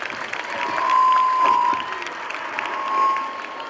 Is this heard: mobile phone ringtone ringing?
no